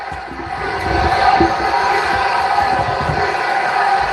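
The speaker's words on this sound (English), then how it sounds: "pipe in fake crowd noise for my matches" Piped-in crowd noise at a wrestling match makes a steady, loud wash of cheering and murmur throughout, with a few dull thumps near the start.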